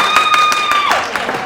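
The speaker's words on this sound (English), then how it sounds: "Applause, yes?" Brief audience applause at a business mastermind pitch meeting, a burst of scattered claps near and steady over a sustained tone that bends downward midway.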